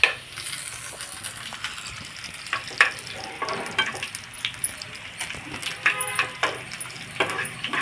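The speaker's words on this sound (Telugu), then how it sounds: "పోపు కూడా చూడండి చక్కగా వేగుతుంది." Tempering spices crackle and fry in hot oil in a pan for a home-style curry, a steady close sizzle broken by sharp pops and the light clink of stirring.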